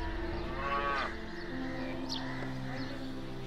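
A cow in a cowshed gives a single deep, drawn-out moo up close, followed by quieter shed ambience with faint birds.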